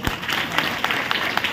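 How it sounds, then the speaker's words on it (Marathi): Short burst of clapping from a classroom audience, loud and fairly close, with uneven sharp claps over a noisy background. "तिच्यासाठी जोरदार टाळ्या।"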